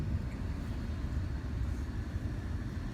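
A 2017 Honda Ridgeline pickup cruises at low speed around the block, a steady, muffled low rumble of engine and road noise heard from inside the cab.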